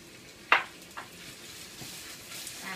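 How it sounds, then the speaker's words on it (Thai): Minced pork with garlic stir-fried in a pan, a soft sizzle underneath with a sharp clatter of the utensil against the pan, a second lighter knock, and then quieter stirring. "ใส่หมูสับลงไปค่ะ ก็ลวนๆนะคะ ให้มันสุกให้ทั่วๆนะคะ"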